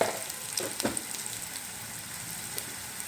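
Turmeric goes into hot oil for lemon rice, giving a soft, continuous sizzle with a couple of small crackling bursts near the start, close and fairly quiet, without speech.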